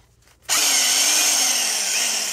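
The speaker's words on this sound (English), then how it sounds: "Still a little bit lumpy, so I'll get another whiz with the mixer." An electric mixer whisks plaster in a bucket, starting abruptly after a brief quiet moment and then running as a loud, steady, close whirring drone.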